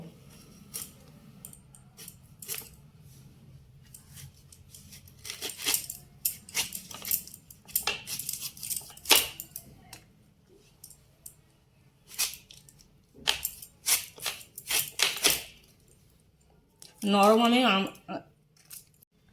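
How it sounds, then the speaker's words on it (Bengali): Hard raw green mangoes being cut with a knife for Bengali mango oil pickle, giving irregular close crunching and slicing clicks, with a brief louder scraping burst near the end. "মুছা হয়ে গেছে, এবারে আমগুলো কেটে নেব।"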